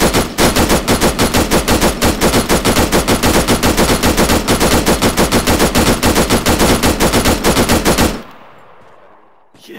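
A sustained full-auto burst of gunfire, loud and close, with rapid evenly spaced shots running for about eight seconds before cutting off into quiet.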